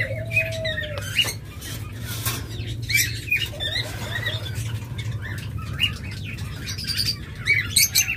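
Chirps and tweets from mixed cage birds, lovebirds, budgerigars and Java birds, kept as breeding pairs, form a busy continuous chatter of overlapping calls with occasional wing flutters, fairly close, over a steady low hum.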